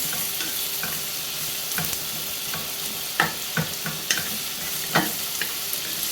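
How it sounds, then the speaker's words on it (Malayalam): Onions and masala sautéed in a frying pan for homemade chicken curry, with a steady close sizzle and intermittent spatula scrapes and taps against the pan, no voices. "നല്ലോണം ഒന്ന് വഴറ്റിയെടുക്കാം ഉള്ളി ഒന്ന് വേഗം വഴണ്ട് വരാനായിട്ട്"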